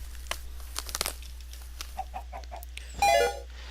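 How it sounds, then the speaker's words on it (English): Chickens laying eggs in a video game, several short clucks and a rising squawk near the end over a low steady hum, with no talking. "Over here I have chickens laying eggs."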